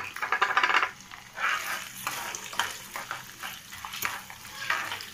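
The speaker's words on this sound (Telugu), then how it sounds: "3 టేబుల్ స్పూన్ల ఆయిల్ వేసుకొని పచ్చిశనగపప్పు వేయించుకోవాలి." Chana dal and urad dal fry in oil in a kadai on medium flame, a bright crackling sizzle that swells and fades in waves as a spoon stirs and scrapes the metal, close and steady with no talk.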